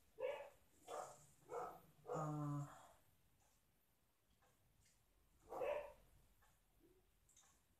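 Dogs barking nearby in a handful of sharp barks, three in quick succession, then a longer strained bark and one more after a pause, fairly faint indoors, while a person's voice briefly starts to speak.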